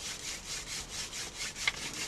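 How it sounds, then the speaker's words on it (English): A wooden hand drill spun back and forth on a board in damp outdoor conditions to make friction fire, giving a rhythmic, close rubbing and grinding with short squeaks near the end. "So I'm just going to bed it in, warm the drill up."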